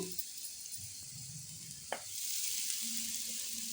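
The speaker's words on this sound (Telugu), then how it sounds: "ఇది మొత్తం ప్యాన్లోకి వేసేసుకొని మనం వేయించుకోవాలండి." Ground curry leaf paste goes into a pan with fried garlic. A quiet crackle and a sharp tap are followed by a steady, soft sizzle that swells and then holds.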